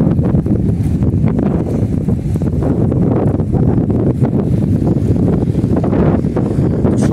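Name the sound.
strong wind at a riverbank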